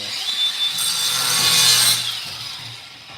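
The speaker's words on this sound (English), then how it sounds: "Quick on the grinder." A power grinder in a workshop spins up into a loud, close, high-pitched whine that swells and holds for a couple of seconds before tapering off, with no talking.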